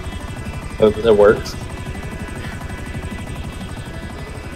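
A helicopter in GTA Online drones steadily with a fast rotor chop close by, while someone speaks briefly over it.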